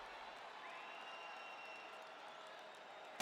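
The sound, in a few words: crowd cheering in UFC video game on PS5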